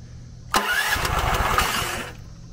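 A Predator 420 engine on a log splitter cranks and sputters briefly, a loud close rumble that catches for about a second and a half and then dies away without running.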